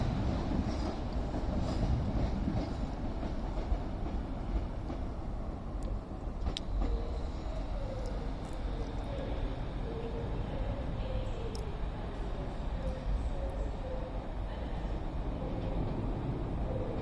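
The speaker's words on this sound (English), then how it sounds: "Also coming in now, we have 390044, the Royal Scott Pendolino from London Euston to Manchester Piccadilly" Class 390 Pendolino 390044, the Royal Scot from London Euston to Manchester Piccadilly, rolls into Stockport station on the West Coast Main Line with a constant heavy rumble and rail noise that holds steady throughout, no voices over it.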